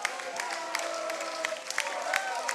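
Clapping and crowd noise at a Rugby World Cup 2019 repechage match between Hong Kong and Germany follow Germany's first try, heard as a fairly faint, continuous wash of applause with a few sharper claps throughout.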